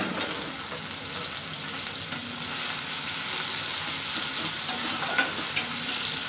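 Crushed ginger frying in a pan for a raw papaya dish, a continuous close sizzle with occasional faint clicks and scrapes of the utensil, no talking.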